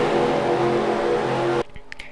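Race cars in a stock-car racing video game at Pocono roar steadily at close range with a dense engine drone, then cut off abruptly to near silence with faint ticks.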